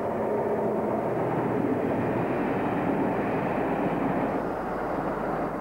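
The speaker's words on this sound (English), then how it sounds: "the Class 37 was hauling a Bournemouth York train on the Great Central Line" A Class 37 diesel locomotive hauls a Bournemouth–York passenger train on the Great Central Line, producing a loud, continuous, close rumbling roar that holds steady throughout.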